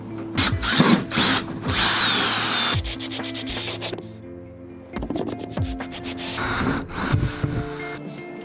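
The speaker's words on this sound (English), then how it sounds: "drilling and riveting." A power drill whines in repeated bursts, biting through a BMW E46 M3 metal fender with a grinding rasp for riveting vents, stopping and restarting several times at close range.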